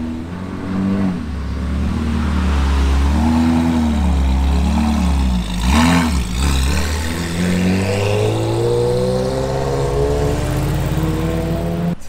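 A Ferrari 360 Spider with a manual gearbox revs loudly and close by at Top Marques Monaco, its engine note climbing and falling through repeated blips with a steady idle between them, and no voices.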